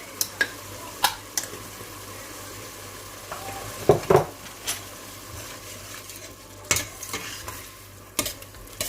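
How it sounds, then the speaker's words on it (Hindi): Kofta pulao ingredients frying in a pan, a steady close sizzle with occasional sharp stirring knocks and scrapes, no voices. "थोड़ी देर के लिए फ्राई करेंगे, तकरीबन 1-2 मिनट के लिए"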